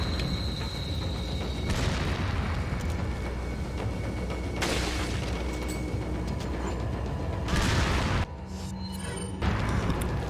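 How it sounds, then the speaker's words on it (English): Dynamite blasts in Resident Evil 4, played on Pro difficulty: several loud, broadband booms hit in succession amid continuous game noise, with a sharp drop and rebound near the end. "the dynamite will explode"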